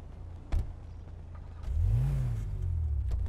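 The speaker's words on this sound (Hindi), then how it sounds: "इसका स्टार्टअप करके देख लेते हैं इसमें भी सेम आवाज़ है कि नहीं" A car engine cranks with a short clunk, then catches and rises into a steady idle rumble nearby, with no voices.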